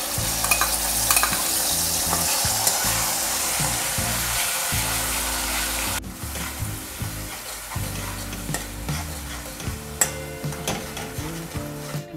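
Paste frying in hot oil with asafoetida and bay leaves for sev usal, a loud continuous sizzle with stirring scrapes throughout, the pan noise briefly dropping partway through.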